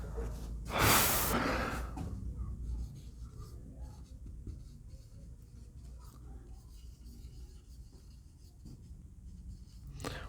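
A pen or marker writes across a board during a maths lesson, with a loud scratchy stroke at the start followed by softer, faint scribbling and quiet breathing.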